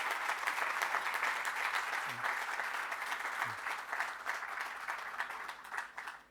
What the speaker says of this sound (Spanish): Un aplauso para José María y Roberto